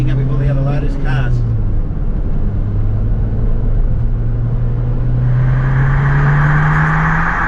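Lotus sports car pulling away with the engine rising steadily in pitch as it accelerates, loud and close, while someone talks over it.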